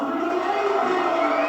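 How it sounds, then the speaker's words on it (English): A Japanese crowd cheers at the 1988 Darts World Grand Prix final, Eric Bristow against Russell Stewart, as a loud, steady wash of voices with whoops and shouts. "Russell Stewart applauding, as indeed do the Japanese audience"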